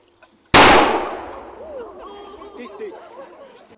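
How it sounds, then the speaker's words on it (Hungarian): A ceremonial cannon fires a single salute shot after a blessing at a traditional outdoor event, a sudden loud boom that rolls away slowly, followed by crowd chatter and voices. "Az áldás után díszlövéssel tisztelegtek a hagyományok előtt."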